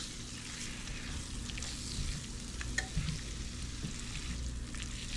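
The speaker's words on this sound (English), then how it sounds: "Essentially what we're building is a roux. And it's gonna simmer, get golden brown" Roux of flour and fat simmering in a pan for chicken pot pie, giving a steady, dense sizzle and soft bubbling crackle that holds evenly throughout, with occasional stirring scrapes and no voices.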